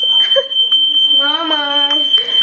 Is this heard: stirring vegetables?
no